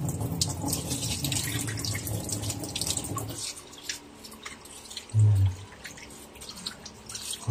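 Anchovies (dilis) being washed under a running kitchen tap, a steady close rush of water splashing into the sink for about three seconds, then quieter dripping and handling with a brief low thump near the end.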